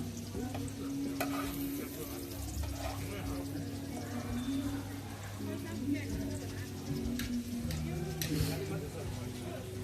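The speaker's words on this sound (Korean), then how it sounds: "얇게 그 쌀 반죽을 펴서 일단 계란을 하나 버터를 넣고 기름을 낸 다음에" Rice batter pancake frying with an egg and butter on a street vendor's griddle in Vang Vieng, a steady sizzle with stirring and scraping, and voices murmuring in the background throughout.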